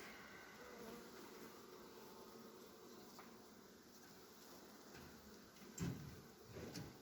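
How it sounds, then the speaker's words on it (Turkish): Winter honeybees buzzing at an open hive, a steady low insect drone with faint rustles and a couple of brief louder knocks near the end; no talking. "Artık bunlar kış arısı."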